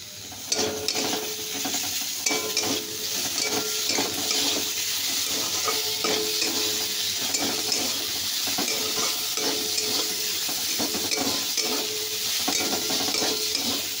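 Tomato, chopped green chilli and salt fry in a pan with a loud, continuous close sizzle, overlaid with repeated scraping and stirring clatter throughout.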